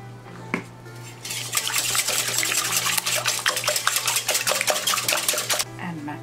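A spoon or utensil clatters and scrapes against a bowl while ingredients with nutmeg are stirred together, a busy run of close clinks and scraping after a quiet start, with a steady hum underneath.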